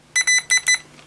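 Short electronic beeps from the continuity test mode of an X9-MOVTADHS IP camera tester's built-in multimeter, four brief high-pitched pulses in quick succession, clear and close with no talk.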